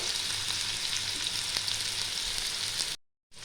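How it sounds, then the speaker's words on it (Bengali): Vegetables for khichuri sizzle steadily in a pan, a close, even frying hiss that cuts out briefly near the end. "বেশি ভাজার দরকার নেই, 2-3 মিনিট একটু ভাজলেই হবে।"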